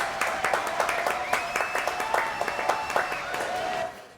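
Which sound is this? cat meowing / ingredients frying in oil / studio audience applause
studio audience applause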